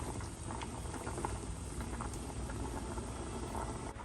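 Pot of water at a rolling boil with pasta cooking in it, a continuous close bubbling and pattering hiss that stays steady throughout.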